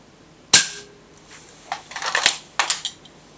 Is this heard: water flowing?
no